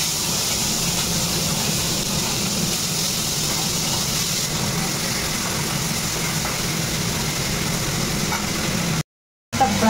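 Prawns frying in a pan in a home kitchen, a steady, even hiss and crackle of hot oil that holds for several seconds before cutting out briefly near the end.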